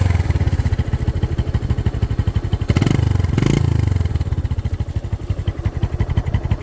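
A 35-model motorcycle engine idling and revving nearby, a pulsing, rapid thumping beat that swells briefly in the middle before settling back to a steady idle.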